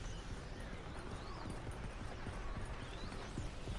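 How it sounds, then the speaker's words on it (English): Hooves clip-clop steadily as a horse is ridden in the video game Paladins, a continuous quick rhythm mixed into the game's dense background sound. "I do not like riding the horse."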